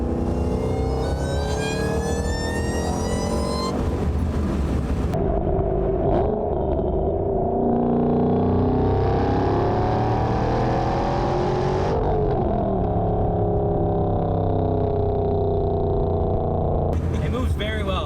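A 726 hp GT500 with 3.73 gears, heard from the cabin, pulls hard through several gears, engine note sweeping upward and dropping at each shift, loud and continuous throughout.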